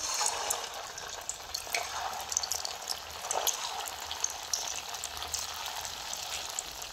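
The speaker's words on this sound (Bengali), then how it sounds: "এবার আমি মিষ্টিগুলো হালকা আঁচে ভেজে নেব।" Semolina gulab jamun sweets fry in hot oil over a low flame, a steady close sizzling hiss with small crackling pops running throughout.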